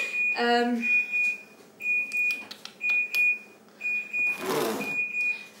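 A high electronic kitchen timer sounds in repeated short bursts at a steady rhythm, close and fairly loud, while a person speaks between and over the beeps.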